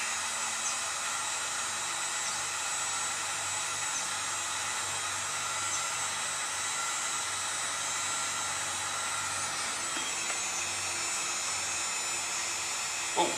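A heat gun warming an oiled wooden bow limb gives a steady, loud blowing roar that holds evenly throughout, with no talk over it.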